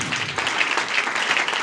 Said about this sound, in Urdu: یہ بھرپور تالیاں ایمانویل کے لیے۔